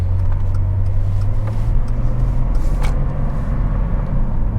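A hail-damaged car won at a salvage auction drives along, its engine and road noise making a loud, steady rumble from inside the cabin, with only faint variation and no talking.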